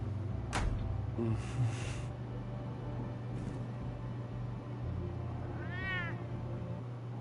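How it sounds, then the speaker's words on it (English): A cat meows once with a rising, wavering cry over a steady low hum and background game noise, heard at moderate distance. "The cat disapproves."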